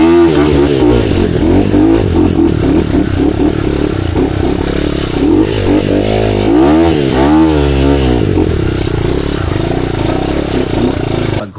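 Enduro motorcycle engine revving hard through thick, slippery mud, a loud continuous drone with rising and falling pitch sweeps as the throttle is worked, plus clattering and scraping throughout.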